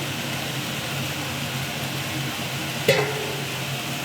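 Minced meat cooks on high heat with a steady low sizzle while a spatula stirs it, with one sharp scrape or clank of the spatula near the end.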